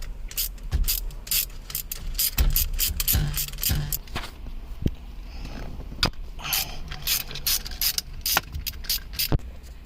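Ratchet wrench clicking as it loosens 13mm bolts beneath the shifter rod of a Porsche 944, with quick bursts of close, crisp ratcheting and pauses between strokes, no talking.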